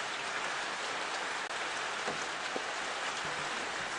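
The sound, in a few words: rain falling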